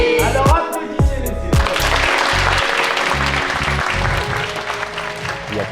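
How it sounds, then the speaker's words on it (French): Audience applause at a youth program gathering, a dense wash of clapping mixed with loud bursts of low, buzzy music hits that start and stop in irregular blocks. "Alors applaudissez-les."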